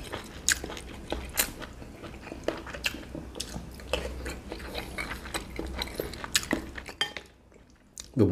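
Chili pepper being chewed during a Malaysian mukbang meal of bakso and fried turmeric tempeh, close crunchy bites and wet mouth clicks in an irregular rhythm, loud and near, no talking.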